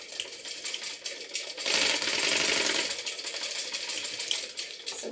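A sewing machine runs in short bursts as it stitches a clear zip pouch, its rapid mechanical clatter rising to a louder continuous run in the middle before easing back to quieter, choppier stitching.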